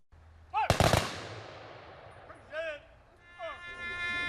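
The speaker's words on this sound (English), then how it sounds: "A 21-gun salute is given to service members that have made the ultimate sacrifice" Rifle volleys of a 21-gun salute at a World War II Marine's funeral in an Ohio hometown: one sharp burst of shots early, followed by fading echoes, with distant calls or voices afterward.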